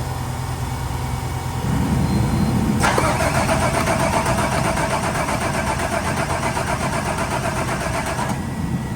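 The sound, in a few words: car engine being cranked and starting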